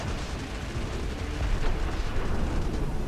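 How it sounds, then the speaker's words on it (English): A heavy bomb explodes in a war strategy video game, a dense, loud rumbling blast that swells midway and rolls on continuously for several seconds without any speech over it. "Let me get a heavy bomb."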